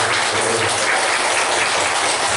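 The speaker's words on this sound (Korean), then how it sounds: "이 시간 우리 다니는 하실 때 우리 박수로 한번 할까요?" Church congregation applause during a Korean Sunday worship service, a broad, even wash of many people clapping that holds steady and loud throughout, with no voices standing out.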